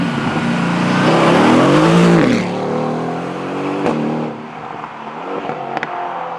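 A 2021 Mercedes-AMG GT Roadster Stealth Edition sits parked while its engine revs hard, the roar rising and falling over about two seconds before settling to a lower idle, with a few sharp exhaust pops near the end.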